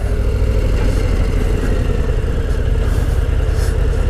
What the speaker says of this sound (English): I know this is me prematurely downshifting again, but this is a great bike.